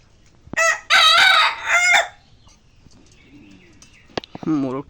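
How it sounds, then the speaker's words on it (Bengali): A rooster crows in a rural Bangladeshi village yard, close and loud, its harmonic call coming at the end after a stretch of talk and quieter background. "মোরগটা দেখে ডাকতেছে।"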